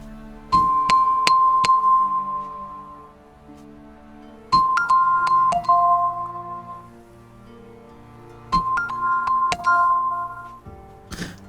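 A bright chime used as a food timer rings three times at regular intervals, each strike a clear, sustained ding with a second tone and soft clinks, decaying into near silence between rings.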